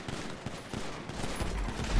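Rapid gunfire rattles in a Spanish-language video game roleplay during an attack on an armored truck, a dense, continuous burst of shots with no pause.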